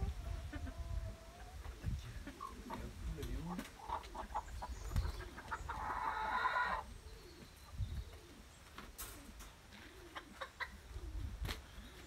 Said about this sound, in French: ça c'est l'autre poule, soie